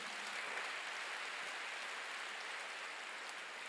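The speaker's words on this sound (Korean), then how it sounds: "박수야." A church congregation applauds in a dense, even wash of clapping that holds steady throughout, distant-sounding and moderately loud with no voices above it.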